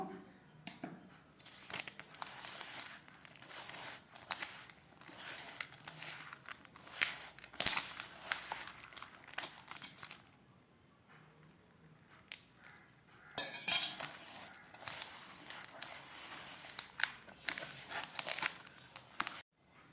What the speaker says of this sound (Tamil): இப்போ நம்ம நெய் ஊற்றி பிணைஞ்சிக்கலாம்